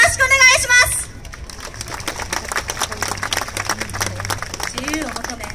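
An audience claps along at a university yosakoi dance team's stage performance in Kyoto, a dense patter of hand claps with loose rhythm under crowd noise, after a brief stretch of loud voices at the start.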